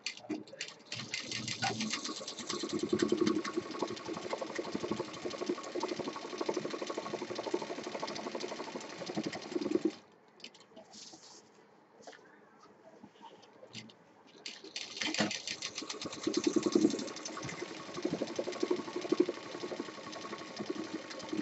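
A sewing machine stitches all the way around a handbag in steady runs, with a pause in the middle where the motor drops to quieter handling sounds before the stitching resumes, close and fairly loud.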